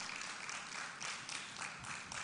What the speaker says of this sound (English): Keep clapping, encourage them